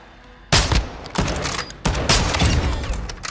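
Video game gunfire in rapid bursts, loud and close, beginning suddenly after a quiet moment and continuing in sharp repeated volleys without speech.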